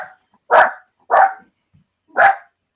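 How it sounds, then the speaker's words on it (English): A dog gives three loud, sharp barks at close range, evenly spaced with short silent gaps between them and nothing else heard. "dogs."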